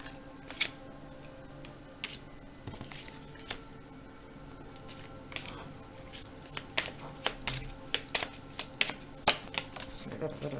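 Tarot cards being shuffled close up, giving a run of crisp, irregular riffling snaps and flicks that grow busier toward the end, with quiet room tone between them and no talk.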